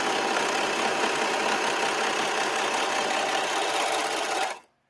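A serger sewing machine races through four layers of coat material, a loud, dense, steady mechanical whir that runs continuously and then cuts off abruptly near the end, with no talking.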